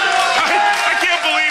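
A wrestling crowd at a Ring of Honor match chants and yells in unison, a dense, loud wall of voices with rhythmic surges over a short stretch.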